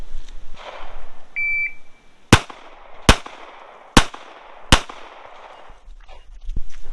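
Four sharp gunshots at a shooting range during shot timer drills, spaced under a second apart, loud and close, with a brief electronic timer beep sounding just before them.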